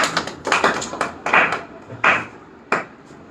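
An audience claps in scattered, uneven bursts at a Bhagavad Gita talk, sharp close hand claps with short gaps between them, fading out toward the end.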